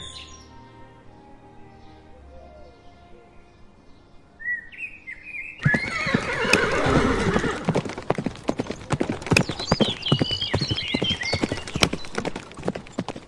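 A war horse in a Bangla comedy cartoon trots in with rapid, steady clip-clopping hooves that start suddenly and continue close and loud, with bird chirps and tweets scattered over the top.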